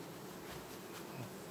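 A honey bee colony at a hive in August buzzes in a dense, steady drone that holds evenly throughout, close by and with no voices.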